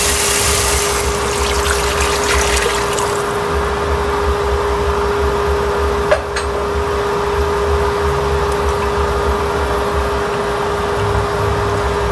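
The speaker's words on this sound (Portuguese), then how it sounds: "Agora nós vamos adicionar 1 litro de água." One litre of water pours steadily into a simmering soup base for a quail egg and vegetable broth, a continuous broadband gush holding at an even level throughout, with one small knock about midway.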